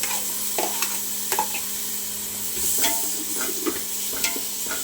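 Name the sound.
tomatoes frying and being stirred for chicken and mutton curry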